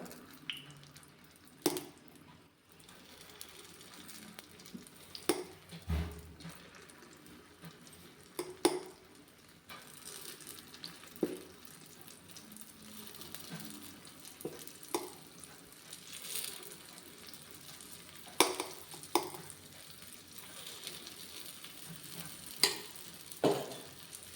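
Paddu batter poured into a hot paddu pan sizzles steadily at close range, with scattered light clinks and taps of a spoon and pan, and no talking.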